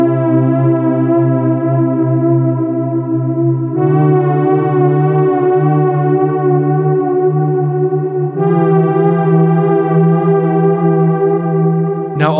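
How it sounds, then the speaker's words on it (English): Sustained synth chords in a slow progression played through a Chase Bliss MOOD reverb pedal, three long smooth chord changes ringing with lush reverb, alone and steady. "recording the chord progression that we have for our demo track using this sound and using the MOOD as a reverb pedal"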